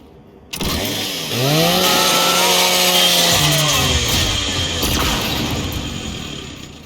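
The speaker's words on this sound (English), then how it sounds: "do me a favor and scrap that custodial unit for me. Just use your Lancer's chainsaw." The Lancer's chainsaw bayonet in Gears 5 revs up and grinds through a custodial robot unit, a loud sustained whine with rising then settling pitch, mechanical scraping underneath, alone without talk.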